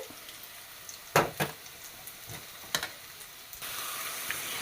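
Crushed garlic and shallots hit a hot pan with tender jackfruit, giving a few sharp clicks and spatters before a steady sizzle rises and holds to the end.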